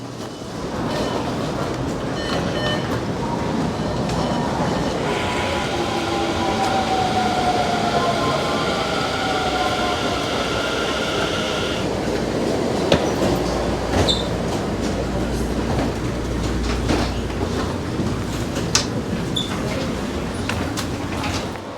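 A metro train rumbles along steadily from inside the car, with a high metallic whine for a stretch and occasional clicks from the wheels.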